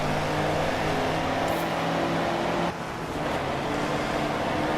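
A truck engine roars at sustained high revs while racing in Forza Horizon 4, a steady droning growl with a brief dip partway through, loud and continuous with no talking.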